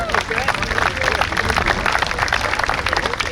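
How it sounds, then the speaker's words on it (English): An audience at a New York State Police special operations exhibit applauds the K9 officers with steady, dense clapping and crowd noise, and people talk underneath. "Give a round of applause to all the boys"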